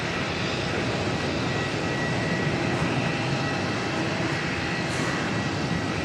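An American Airlines Boeing 787 departs Auckland Airport, its jet engines producing a broad, steady roar heard from a distance that holds evenly throughout.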